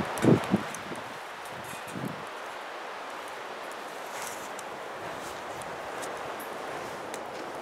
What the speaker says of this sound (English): it's really windy and cool out here today